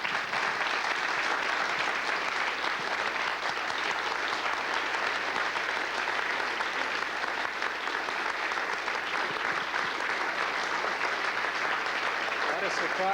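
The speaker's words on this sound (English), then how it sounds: "Let's give Jason a applause for his many years." A lecture-hall audience applauds a man honored for his many years leading the Geneva Lecture Series, giving a steady, even wall of clapping that holds at constant strength throughout without pause.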